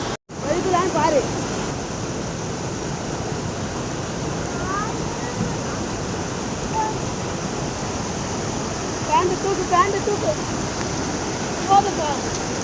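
Steady, broad rushing of Jogini waterfall near Manali, fed from the mountain above, fills the whole stretch, with faint voices and occasional high bird-like chirps over the constant roar.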